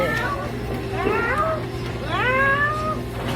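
A person mimics a cat at a late-hours public market, producing two drawn-out meows with rising and falling pitch, close and clear over a steady low background hum.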